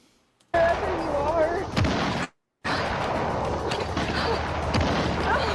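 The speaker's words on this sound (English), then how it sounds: "Gunshot sounds, too." Gunshot sound effects during a stream, loud sharp bangs and booms over a busy noisy background, broken by a brief silent gap before the clatter resumes.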